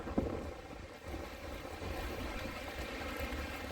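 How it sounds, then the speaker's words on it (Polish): Strong wind buffets the microphone outdoors in a city, a steady low roar with gusty rumble throughout and no voices. "strasznie wieje dzisiaj"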